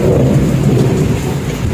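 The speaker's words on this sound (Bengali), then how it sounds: "প্রচুর বৃষ্টি হচ্ছে" Heavy rain pours outside with thunder rolling through it, a dense, loud, continuous roar with deep low rumbles for under two seconds.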